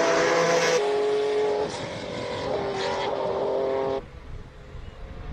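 A BMW E36 race car launches at a Cape Town hill climb, a loud close engine roar that drops in pitch as it shifts, then cuts away sharply into quieter, more distant sound, with no voices.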